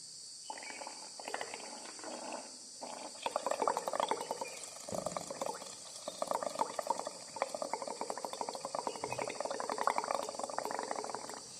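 Breath blown through a straw into clear lime water in a glass beaker makes a steady, fairly quiet bubbling and gurgling that runs for several seconds in uneven surges.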